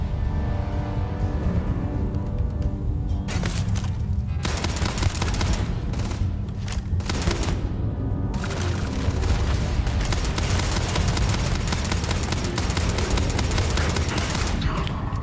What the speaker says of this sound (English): Not my most accurate firing I've ever done